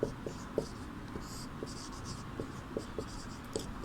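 Pen on paper as an answer is written out by hand for a Hindi class exercise: soft continuous scratching with faint regular taps, close and quiet, with no talking.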